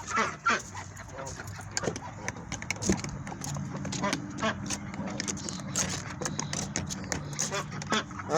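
Chickens let out of their coop in the morning, a busy flock clucking and squawking close by with scattered calls, rustling and movement throughout, steady and moderately loud.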